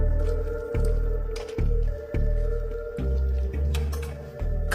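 Wet, squelching peel of skin coming away from a waterlogged corpse, a film effect, in several slow repeated squishes with dripping, close and fairly loud over a low rumbling score.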